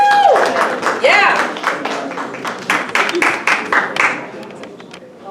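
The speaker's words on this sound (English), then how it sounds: "Give her a round of applause." An audience at a student awards ceremony breaks into applause, dense clapping that starts loud and gradually thins and fades over about five seconds, with a short spoken exclamation near the start.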